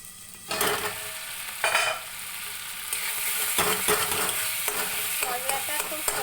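Masala sizzles and fries steadily in a pan with oil, broken by a few louder scraping stirs and the splash of eggs going in, close and alone without talk.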